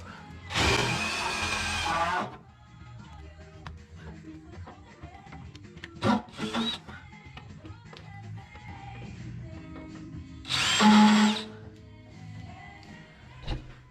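A power drill fitted with Matco drill bits works on bolts in an FJ40, with several loud whirring bursts of a few seconds each separated by quieter clanks and handling noise.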